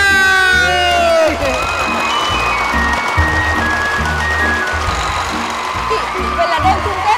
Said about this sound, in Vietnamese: Vâng, một tràng pháo tay cho hoa khôi của Miss Kiwi năm nay